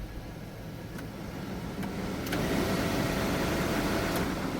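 A newly replaced blower motor running inside a 2004 Chevy Silverado 1500 gives a steady, faint whooshing hum of fan air. It rises slightly in strength partway through, with a few soft clicks and no talking.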